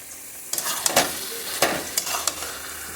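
A beetroot dish with peanut powder and sprinkled coriander is stirred in a pan over a soft sizzle, with several distinct scraping knocks of the spoon at uneven intervals, close and fairly loud.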